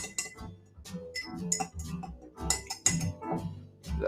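A spoon stirs punch made with guava jelly and lime in a glass, giving quick, bright clinks and ice rattles in an irregular rhythm, close and moderately quiet, with no talking.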